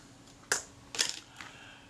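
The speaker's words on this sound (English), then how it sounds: "we can tell that the the shutter appears to fire the camera appears to cock" A Kodak Retina IIa film camera is cocked and its shutter fired, giving three quiet, crisp mechanical clicks spaced about half a second apart in an otherwise still room.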